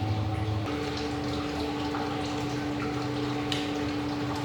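Pool filter pump running on the rinse setting after vacuuming: a steady, close motor hum with a constant tonal drone and rushing water churning through it, unbroken and alone.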